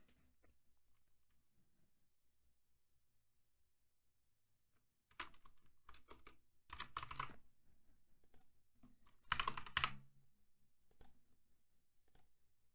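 Computer keyboard being typed on, quiet and close, with short clusters of key clicks and two denser bursts of rapid tapping separated by pauses.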